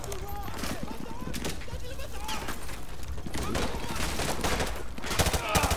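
Beretta pistol fire in Modern Warfare 2 Remastered comes as sharp, irregular shots with other gunfire and in-game voices in the mix, busy and fairly loud, with the last burst of cracks near the end.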